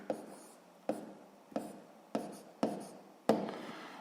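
Pen strokes writing numbers on paper while working a sixth-grade fraction exercise: six distinct scratchy strokes, each a sharp onset fading out, evenly spaced and close, with no talk.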